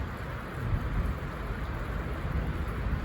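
Mountain thunderstorm in the Pyrenees, with steady rain hissing close by and a low, distant thunder rumble rolling underneath, no voices heard.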